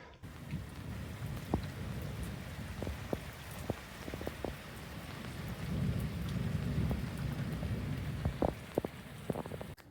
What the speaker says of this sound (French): Il y a un méga orage présentement.